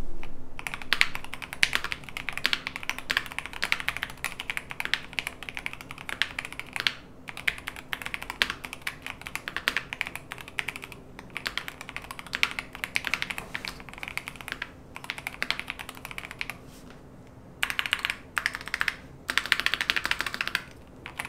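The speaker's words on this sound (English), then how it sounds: "making this keyboard one of the best sounding, best typing, best feeling Hall effect keyboards for work that I've used so far" Continuous typing on a Keychron Hall effect mechanical keyboard, with steady, close-up key clacks in quick uneven runs and a few short pauses, heard alone.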